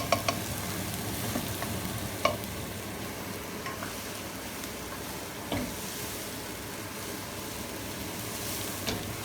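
Chorizo and onions frying in a wok with Spanish paprika potatoes, a continuous sizzle with intermittent scraping and clacks of stirring throughout, close and moderately loud, with no talking.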